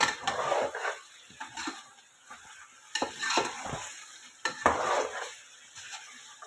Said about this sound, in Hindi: अब इसको अंदर हमने फ्राई करना है। हम इसे अच्छी तरह पहले फ्राई कर लेते हैं।